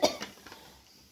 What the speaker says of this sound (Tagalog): excuse me nag-ubo ko